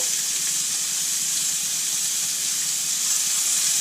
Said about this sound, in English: You never want to cook steak without that sizzle. The sizzle's where it's at.